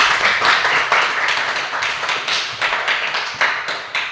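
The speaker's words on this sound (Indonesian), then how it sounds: "mari kita tepuk tangan untuk kelompok 1" Audience applauds a student group after their class discussion presentation, a steady patter of many hands clapping at close range for about four seconds with a few sharper individual claps standing out.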